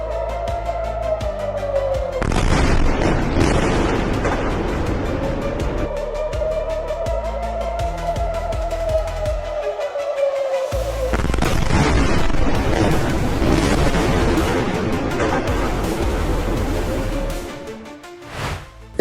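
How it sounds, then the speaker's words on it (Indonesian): News footage of Iranian bomb warheads striking and exploding on impact: heavy booming blasts and rumbling roars, loud and sustained, with distinct bursts around the middle and end, mixed with an overlaid steady tone. "Lihatlah bom yang menghantam."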